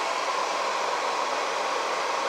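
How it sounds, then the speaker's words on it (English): A hair dryer blows with a steady, even whoosh of air, drying tacky glue on a diorama brick wall, constant and unbroken from start to finish. "force the tacky glue to dry quickly with the hair dryer"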